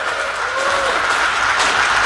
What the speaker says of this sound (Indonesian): kita tepuk tangan buat Presiden